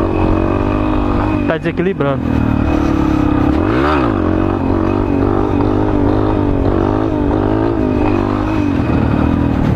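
A Yamaha Lander motorcycle revs hard and loud throughout, its engine note rising sharply around a wheelie attempt, with someone talking briefly over the steady close engine drone.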